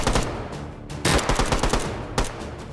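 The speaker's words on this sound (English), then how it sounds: "And you've got those 3 rounds literally hitting in rapid succession." Quick bursts of close gunfire in the virtual-reality shooter H3VR, tight groups of rapid shots, with a short gap between bursts and a sharp crack at the start of each, loud and dry.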